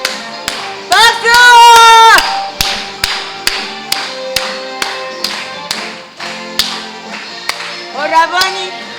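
A church meeting congregation claps in unison to a regular beat, crisp claps evenly spaced throughout, with sung voices rising over them near the start and again at the close.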